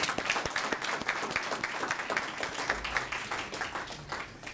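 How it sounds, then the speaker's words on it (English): A crowd applauds at a Southfield public service award ceremony honoring a police chief. Continuous, even clapping holds at moderate volume for the whole stretch, with no talking over it. "So George, give him a round of applause."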